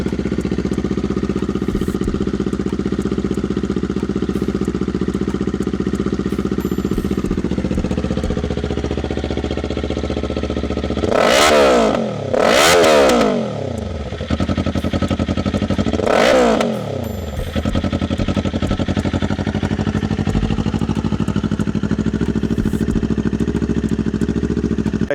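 Kawasaki Eliminator motorcycle fitted with a slip-on exhaust idles steadily up close, then gets three sharp blips of the throttle, two quick ones followed by a single later rev, before settling back to a lumpy idle.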